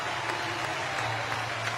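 A home crowd cheers and applauds at the finish of a track race, a dense continuous roar of clapping heard at a distance.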